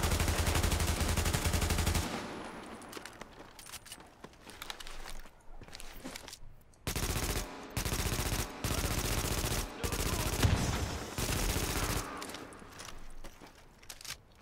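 Sustained automatic gunfire in the third-person shooter The Division, long rapid bursts with brief pauses between them, loud and close, punctuated by single louder shots.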